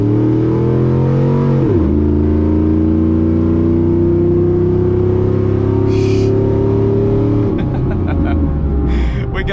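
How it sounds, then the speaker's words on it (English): A cammed 5.3 V8 pickup on 35-inch tyres in sport mode roars under full throttle, rising through the revs, dropping sharply at an upshift, then climbing again before another shift, loud and close from inside the cab. "go ahead and put her in sport mode, and we're just gonna floorboard it and see how she reacts"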